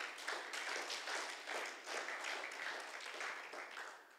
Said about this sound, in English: Can you give the Lord a clap offering tonight